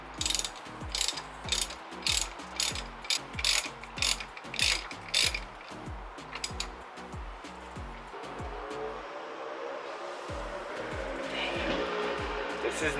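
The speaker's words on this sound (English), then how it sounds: "Gonna go ahead and tighten it down now." Ratchet tightening bolts on a big brake kit being fitted to a Nissan 350Z, with steady rapid clicking in repeated strokes up close, then a grinding whirr toward the end, with no talk.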